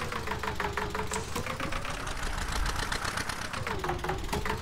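A tractor engine idles in Farming Simulator 19, a steady mid-pitched knocking rumble with a faint wavering whine running over it, continuous and close throughout.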